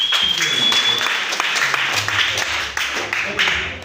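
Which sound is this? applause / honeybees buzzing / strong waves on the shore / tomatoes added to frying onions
applause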